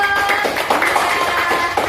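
Schoolchildren clapping together in a classroom: a quick, brief burst of hand claps with light taps mixed in, fairly close and steady throughout.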